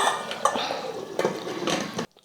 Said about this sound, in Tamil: இப்போ நம்ம குக்கர் மூடி போட்டு மூடிடலாம்